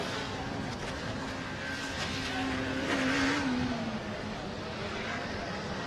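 A Formula SAE race car at the Australasian 2016 competition runs its lap on a left-hand loop, a steady engine drone held at an even distance with a slight rise in pitch midway, continuous throughout.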